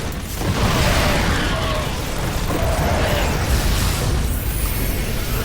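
StarCraft II siege tank shelling wipes out Marines: a loud, dense wash of booming impacts and clattering mechanical noise rolls on for several seconds without pause.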